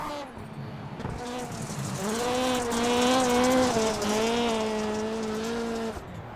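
A race car in iRacing swings through a handbrake turn, its engine drone rising and holding steady in pitch with a rough tire-scrub edge, loud and continuous.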